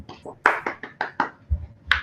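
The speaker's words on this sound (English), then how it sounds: "let's just give him a big round of applause" A few people on a group call give Mick a sparse round of applause: a short burst of scattered hand claps, close and uneven, with a faint low thump near the end.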